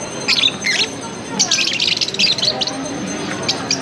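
Sparrows chirp in quick bright bursts, several calls overlapping at moderate distance against a steady outdoor background.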